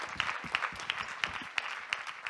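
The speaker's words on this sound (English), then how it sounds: "Ladies and gentlemen, give applause to John Bell." An audience at an international congress on world civilizations claps for the host, fairly faint and sparse, with distinct individual claps recurring in a loose rhythm over a soft background.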